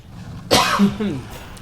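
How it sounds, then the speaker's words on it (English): A single sharp cough, close and fairly loud, followed by a brief throaty rasp, with no talking. "Cough politely away from microphone"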